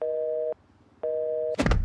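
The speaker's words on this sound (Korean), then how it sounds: "한껏 폼을 잡으며 아버지에게 전화를 걸어보는 조커." A telephone busy signal sounds on a call: two steady, clear electronic tones about half a second each, separated by a short silence, then cut off by a brief rustling clatter.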